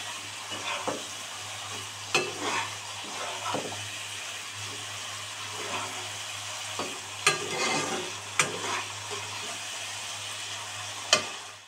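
Bhola fish with onion stalks fries in oil with a steady sizzle, broken by repeated sharp scrapes and clinks of stirring, close and continuous, with no talking.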